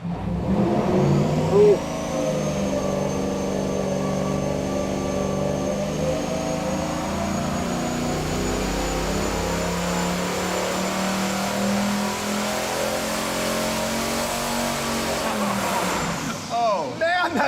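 A turbocharged 440 engine roars under load on a dynamometer, a loud sustained rev with rising whine held for many seconds before cutting off, with brief exclamations from people nearby.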